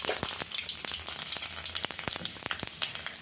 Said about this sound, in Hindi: अब ये तेल मेरा गरम है, इसमें मैं तड़का लगाऊंगी